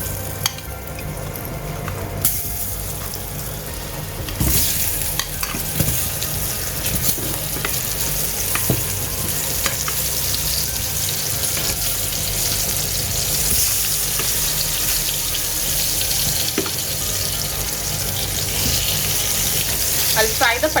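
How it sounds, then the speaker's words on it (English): Potatoes fry in a pan for Kolkata mutton biryani, a steady close sizzle broken by scraping stirs and small clatters, with a quieter stretch near the start before the frying noise settles in. "I'll fry the potatoes until it gets a nice fried texture."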